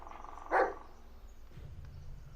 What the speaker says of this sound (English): Listen to his bark and watch his body language.